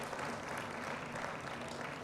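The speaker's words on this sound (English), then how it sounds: "We need to clap Lawrence." An audience at a book launch gives a short burst of steady clapping, quiet and somewhat distant, continuous throughout.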